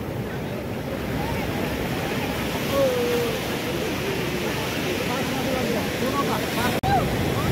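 High sea waves pound a clean beach in Odisha near Konark. A continuous roar of surf blends with gusty wind buffeting the microphone, and faint voices drift in the background.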